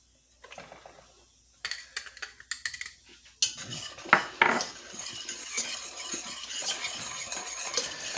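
Oil, a few onions and flour stirred together in a pan for a roux, with close scraping and clinking of a utensil against the pan over a soft sizzle, no talking.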